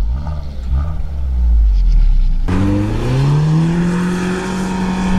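A Lada Niva 4x4 engine revs hard in first gear and climbs in pitch as it pulls uphill under load, loud and close, strained and droning.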